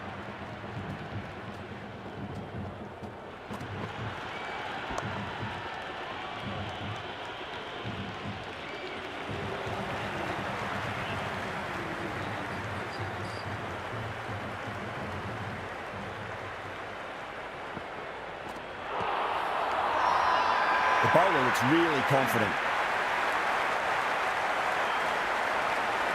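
Cricket stadium crowd at a CSK vs MI match, a broad steady buzz of cheering from the stands that swells louder near the end, with a commentator talking over it.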